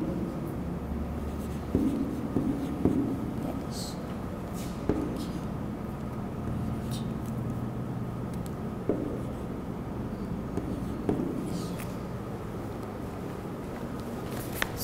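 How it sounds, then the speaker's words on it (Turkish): A pen writes numbers on paper in short bursts of scratchy strokes, close up, with small pauses between figures over a steady faint background hum. "ve diğer sayıyı da yazıyorum"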